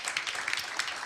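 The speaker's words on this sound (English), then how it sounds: "a big round of applause" A lecture-hall audience at a fireside chat with a Canadian minister breaks into dense, steady applause, many hands clapping at moderate distance in a short burst with no talk over it.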